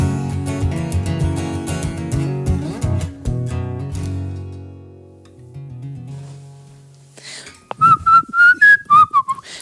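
A person whistles a song melody in the closing seconds, bright and close, following a stretch of instrumental music at a sofa house concert.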